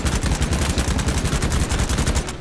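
Rapid, loud automatic gunfire from a BattleBit Remastered firefight, a dense steady stream of closely spaced shots filling the whole stretch with no pauses.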